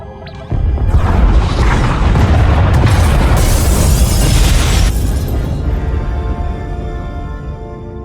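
Pod bays blow up in Star Wars: The Old Republic, a sudden loud boom followed by a long roaring rumble with crashing debris that slowly fades toward the end.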